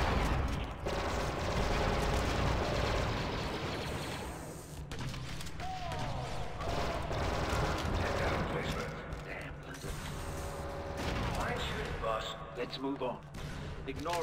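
Turret gunfire in the Star Wars Republic Commando video game: rapid mechanical shots and clanking bursts mixed with game sounds, with a voice speaking over it.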